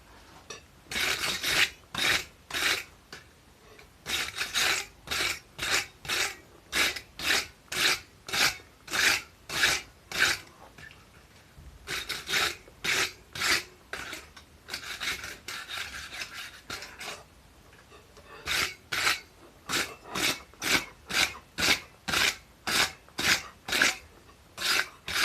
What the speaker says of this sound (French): Donc là, je vais y passer un coup de brosse.